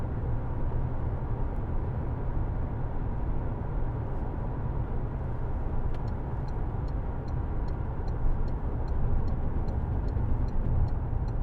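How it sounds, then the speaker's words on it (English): A Citroen Berlingo Multispace 1.6 e-HDi diesel is driven steadily from inside the cabin, its engine and road noise a continuous low rumble, with a faint rhythmic ticking, likely an indicator, joining in the second half. "A nice smooth gear change is just promoted by taking my foot off the accelerator ever so slightly"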